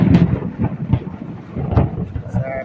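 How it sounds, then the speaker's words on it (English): Rain falls outdoors during a differential fluid drain and fill, with low rumbling thunder-like swells and wind buffeting the microphone, close and continuous, with no clear talking. "It's raining out here"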